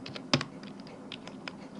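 Someone types on a computer keyboard: a short run of separate key clicks, one of them sharper and louder, spaced unevenly. The clicks are close and play alone with no speech.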